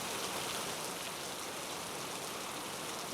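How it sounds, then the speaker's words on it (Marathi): Steady rain falls across Vasai Virar in a dense, even hiss of drops that holds at one level throughout, fairly soft and with no voices. "वसई विरारमध्ये सकाळपासूनच पावसाची रिपरिप आपल्याला बघायला मिळत आहे"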